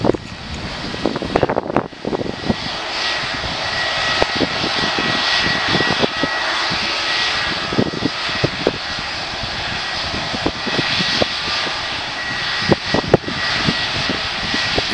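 Jet airliner engines, EasyJet aircraft at Manchester Airport, roar steadily through the whole stretch as a loud, continuous takeoff rumble with gusty wind buffeting the microphone and occasional thumps.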